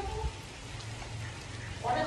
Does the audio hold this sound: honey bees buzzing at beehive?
no